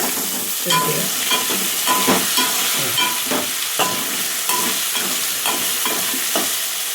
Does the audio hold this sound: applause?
no